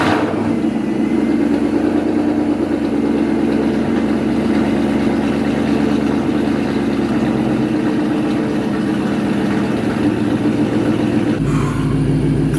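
A Ford Mustang S197 engine cranks and fires with a short burst, then settles into a loud, steady, close rumbling idle that holds for several seconds before a sudden shift near the end.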